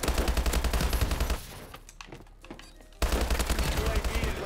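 Rapid automatic gunfire in the Call of Duty: Advanced Warfare video game rattles loudly in dense bursts, stops for a moment of quieter game sounds, then starts again at full strength.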